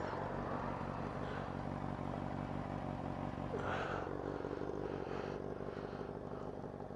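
A GSX-R 600 SRAD motorcycle engine with a new aftermarket exhaust rumbles steadily throughout, a continuous low throaty drone with a brief rising rev in the middle, heard alone without talk.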